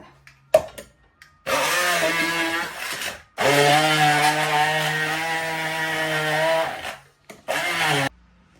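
A kitchen blender grinding tomatoes for curry runs in loud bursts: a short pulse, then two long whirring runs with a steady motor drone, and a final brief burst, separated by near-silent pauses and small clicks.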